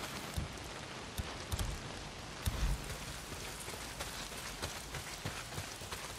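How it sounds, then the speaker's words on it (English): Heavy rain pours steadily in the video game Days Gone, a dense, even hiss of drops striking surfaces, with scattered louder splashes and no voices. "Well, not if it's pissing down rain."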